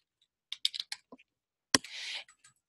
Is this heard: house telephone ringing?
no